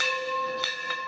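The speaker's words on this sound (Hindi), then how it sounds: "घंटी बजा रहे हैं, हम भी बजा लेते हैं गाइस।" A metal temple bell rings with a sustained bright tone, struck again twice in quick succession, close and resonant.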